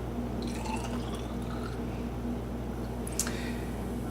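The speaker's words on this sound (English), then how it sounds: "So first I'm going to pour about 25 milliliters of this already fermented feedstock into a conical centrifuge tube." About 25 milliliters of fermented feedstock is poured into a conical centrifuge tube, a soft, faint liquid trickle and drip against a steady low background hum.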